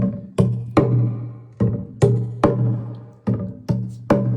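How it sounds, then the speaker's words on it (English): Cheng Pi percussion of the Karbi tribe of Assam beats out a steady pattern of sharp struck hits, about ten in all with brief ringing decays, played close and alone. "Here is a percussion called Cheng Pi that they play,"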